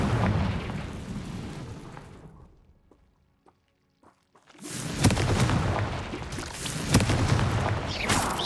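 The Confringo explosion spell goes off in Hogwarts Legacy. A roaring blast fades to near silence, a few faint clicks sound, and a second loud, rumbling explosion follows and keeps sustained booms going.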